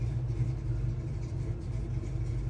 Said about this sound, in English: Sits here in idle, beautiful.